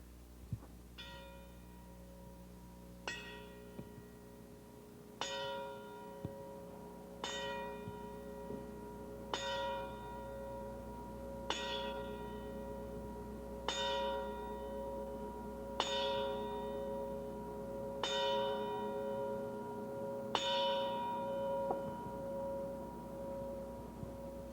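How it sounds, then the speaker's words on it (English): A memorial bell rings ten times at an Air Force Academy ceremony, each stroke a clear ringing tone that hangs and fades before the next. The slow, evenly spaced strokes sound over a quiet room. "The bell will be tolled 10 times in recognition of his events."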